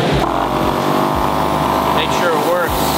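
A Smittybilt portable air compressor running loud and steady nearby, a harsh continuous motor drone with rhythmic pulsing throbs, and a voice briefly talking over it.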